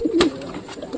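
A pigeon kept in a home loft setup at night gives a short, low cooing burst near the start, close by, followed by quiet room tone.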